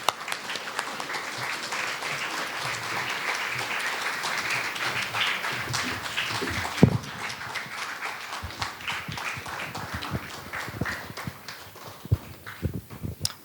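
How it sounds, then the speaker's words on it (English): A church congregation applauds a woman associate pastor as she is welcomed to speak, a dense sustained clapping across a large room with a few voices faintly underneath. "Shall we all receive her with a big round of applause?"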